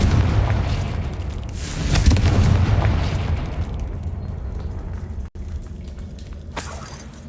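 A Confringo spell blast in a video game: a loud, sustained rumbling explosion that swells, then fades into a long roaring tail, with a brief cut and a later crackling burst.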